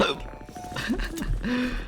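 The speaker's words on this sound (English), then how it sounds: "Is there a way I can make it so that it doesn't pick up my hiccups on call?" Hiccups during an online Halo Infinite match, a few short close throat jolts mixed with brief voiced sounds.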